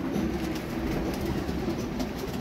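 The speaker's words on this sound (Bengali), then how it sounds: "এখানে সোয়া চন্দন কবুতর আছে," Pigeons in a wooden coop loft built from slats and battens, with the birds nesting inside; a steady, dense murmur of cooing and rustling fills the space throughout, close and continuous.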